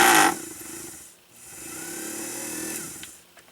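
An Elna Supermatic sewing machine, fitted with a replacement rubber pulley, whirs from a motor that starts with a loud burst, dips briefly, then hums steadily for a few seconds.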